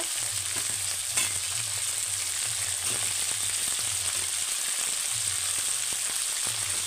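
Potatoes tipped into a hot pan with broiler chicken fry and sizzle steadily, a bright continuous hiss with soft stirring scrapes and a low hum underneath, close and even throughout.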